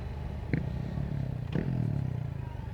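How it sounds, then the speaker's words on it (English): A KTM supermoto motorcycle engine drones in a low, steady rumble with a couple of brief clanks, heard while riding, with wind noise and no talking. "that Supermoto sounds so good."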